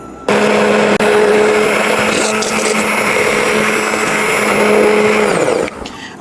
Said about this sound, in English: you always want to make sure that you have this going with your immersion blender when you pour in your alcohol